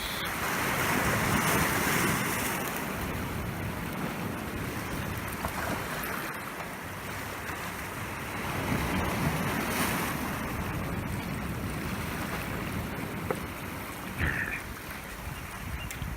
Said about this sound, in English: Just to listen to the waves and look at the sea.